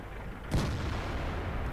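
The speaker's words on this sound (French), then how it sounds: "Depuis tout à l'heure, je tire, je tire et je touche." A tank cannon fires once in World of Tanks, a single heavy boom with a sharp onset followed by a long, low rumbling decay under steady background noise.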